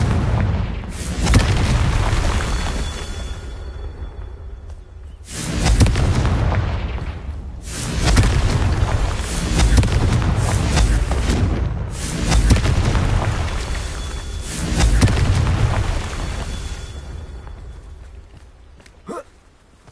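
Confringo fire-blast spells explode in the video game Hogwarts Legacy on PS5. Several deep, booming blasts arrive a few seconds apart, each with a loud rumbling tail, close and heavy with no voices.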